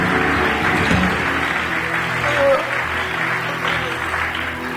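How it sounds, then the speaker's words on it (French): A church congregation applauds together to acclaim the Lord during a Sunday service, a steady wash of clapping sustained throughout with a slight swell midway. "On acclame le Seigneur."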